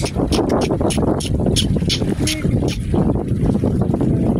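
Cool wind blowing off the sea at the shore sweeps past in a steady, blustery rush with low rumbling buffets on the microphone, lasting throughout with no clear break.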